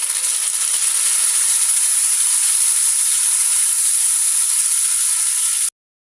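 Homegrown local tomatoes hitting a hot pan for tomato chutney, a loud, bright, continuous sizzle and steamy hiss held at an even level, then cut off abruptly near the end.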